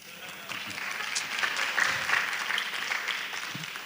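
A church audience applauds during a sermon, a soft, fairly distant patter of clapping that swells slightly in the middle and then tapers, with no speech over it.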